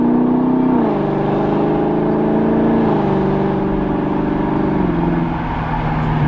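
A car engine, not yet warmed up, revs lightly but loudly and close, pitch stepping up through the gears in a steady continuous roar.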